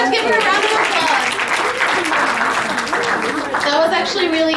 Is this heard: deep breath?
no